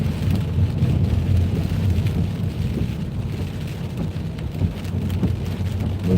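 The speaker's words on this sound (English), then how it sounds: "The rain is wonderful." Steady heavy rain drums on a car at night during a wet, windy drive, a dense continuous wash filling the whole stretch with no voices.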